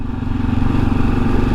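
A Kawasaki KLR650 single-cylinder motorcycle engine eases off the throttle. It gives a close, loud, lumpy putter with a rough, uneven beat as it slows.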